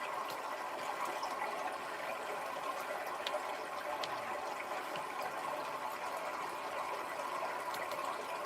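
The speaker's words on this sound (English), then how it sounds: "He sounds like a running toilet." Faint, steady trickle of water circulating in a large home aquarium tank, a constant hiss like a running toilet with no talk.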